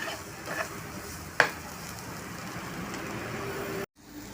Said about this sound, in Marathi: तर ही भाजी मी मंद गॅसवर 1 मिनिट परतून घेते.